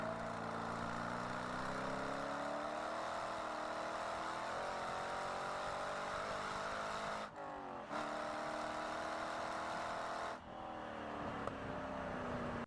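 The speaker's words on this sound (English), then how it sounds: "I know the weight's going to come back along with the traction, and the car will just keep accelerating" A race car accelerates around the track at Barber Motorsports Park, its engine note rising steadily and loud throughout, with two brief dips where the revs drop as it shifts before climbing again.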